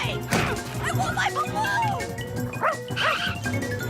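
A cartoon dog in a Garfield episode gives several yapping barks and whimpers amid lively cartoon sound effects, with excited voices talking over parts of it.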